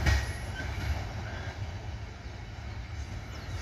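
A switcher locomotive and its freight cars roll past at Abbeville, a steady close rumble of wheels and rail noise with faint squeal, loudest at the start and holding fairly even throughout.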